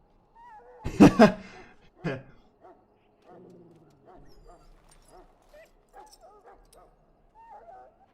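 A sick dog in the Dragon Age: Origins video game lets out a loud cluster of barks and yelps, then trails off into a series of soft, thin whimpers and whines that continue faintly to the end.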